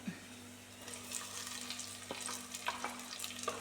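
Sliced onions frying in a pan, a quiet, continuous sizzle with faint crackles and a few light clinks near the end, heard close with no voices.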